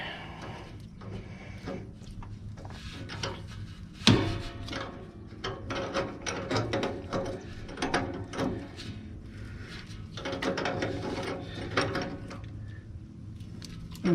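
A ratchet works loose an exhaust clamp bolt on a 2007 Freightliner Columbia truck, with close, uneven bursts of clicking and metallic rattling and a sharp knock partway through.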